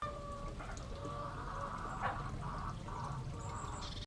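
Chickens cluck inside a backyard chicken coop, several soft, intermittent calls over a constant low background hum, with no talking.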